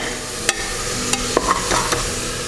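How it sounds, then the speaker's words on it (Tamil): Coriander and mint leaves sautéed in a pan for mushroom biryani, a close continuous frying hiss with several sharp spoon taps and scraping strokes against the pan. "இப்போ இதில் கொத்தமல்லி 1 கப்பு, புதினா ஒரு கப்பு. கொஞ்சம் வதக்கிடலாம்."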